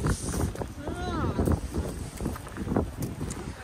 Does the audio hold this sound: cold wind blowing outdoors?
yes